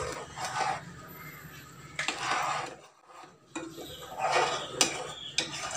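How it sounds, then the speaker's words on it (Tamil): Chopped almonds and cashews go into simmering milk for basundi, followed by repeated scraping and clinking of a metal spoon against the pot in uneven strokes, close and fairly loud, with no one talking. "இப்போ நம்ம இதில் நம்ம கட் பண்ணி வச்சுருக்க பாதாமும் முந்திரியும் ஆட் பண்ணுறோம்."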